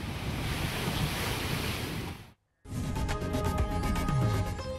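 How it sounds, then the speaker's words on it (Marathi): High waves crash and surge at Ganpatipule beach beside the temple grounds, a loud roaring wash mixed with wind buffeting, cut by a brief silent gap before the surf resumes. "रत्नागिरीच्या गणपतीपुळे मंदिराच्या आवारामध्ये आपण पाहतो अत्यंत उंच लाटा उसळत असल्याचं दृश्यामध्ये दिसतंय"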